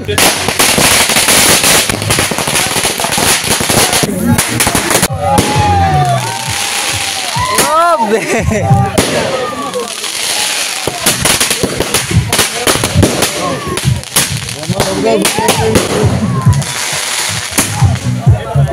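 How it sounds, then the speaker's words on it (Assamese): Firecrackers and fireworks go off at a wedding as the groom arrives, with loud, rapid bursts and crackles, some whistling streaks, and a noisy crowd talking and shouting underneath throughout. "এয়া বোমা মাৰি ৰেডি মানে দৰা আহি পালে"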